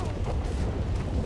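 Gunfire in GTA 5, a rapid run of dull booming shots and bursts packed close together over a low rumble, loud and continuous through the short stretch.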